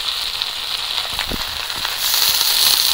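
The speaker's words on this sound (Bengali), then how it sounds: "লবণ, এই শাকের মধ্যে অল্প একটু জলের ছিটে দেবো।" Shushni greens frying in a pan hiss and sizzle steadily as a light splash of water is sprinkled in, the crackle swelling louder partway through, close and without talk.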